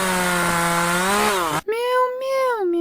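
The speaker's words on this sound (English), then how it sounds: "I heard that we were getting chainsaws in Fortnite" Fortnite chainsaw running at a steady high-pitched buzzing whine, then cutting out abruptly and giving way to a different rising, tonal drone, loud and close throughout.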